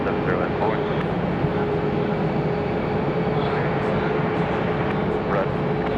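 A Southwest airliner takes off from runway 5 right at Raleigh-Durham (RDU) airport, making a steady, loud broadband jet roar that holds for the whole stretch while radio voices talk over it.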